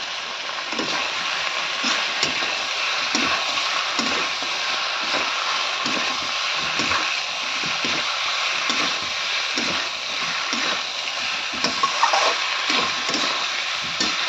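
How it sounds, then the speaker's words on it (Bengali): Boiled taro pieces frying with spices and tomato in a pan for a rohu fish curry give a steady sizzle with rhythmic scraping and stirring strokes, close and moderately loud, without speech. "এগুলোকে অল্প ভালো করে কচুগুলির সাথে মশলাগুলো যাতে মিক্স হয়ে যায় তা অল্প ভেজে নেবে"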